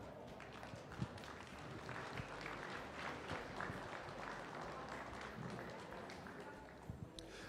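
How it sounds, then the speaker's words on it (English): An audience at a cattle show in Eastern Ontario/Western Quebec claps for the 4-H members, a steady, dense wash of applause holding at a fairly low, even level for several seconds. "Let's give all the 4-H members a nice round of applause."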